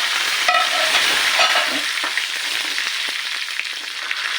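Dried red chillies and curry leaves frying in hot oil, a loud, steady sizzle with crackles and spoon stirring scrapes throughout, no voices.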